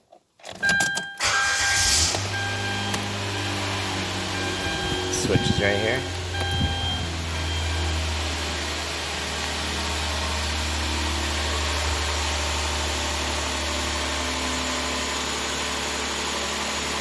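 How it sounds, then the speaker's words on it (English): A Hyundai Santa Fe engine cranks and catches near the start, then settles into a steady, close low idle that runs on throughout, with a brief louder rise midway and a voice speaking briefly over it. "to test these, you have to start the engine"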